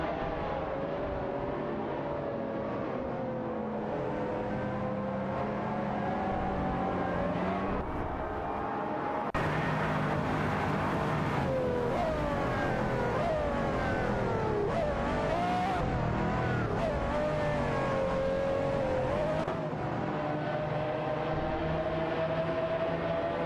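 An Audi and a McLaren F1 GT race in a video game, engines revving and shifting through gears in a continuous loud whine, with a sudden jump in intensity partway through as the cars roar on.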